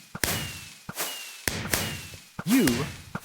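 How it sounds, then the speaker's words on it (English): Fireworks in Minecraft, in the Enigmatica 8 modpack, go off as a series of sharp repeated cracks and launches about every half second, loud and close, with a brief voice sound near the end. "And some fireworks that'll go on for a while."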